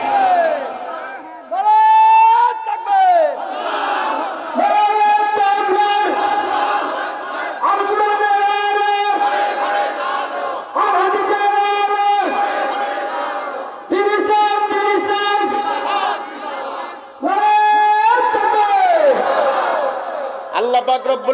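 A large crowd at a sermon gathering loudly chants Allahu Akbar in unison, with the chant repeated roughly six times in rhythmic, swelling waves.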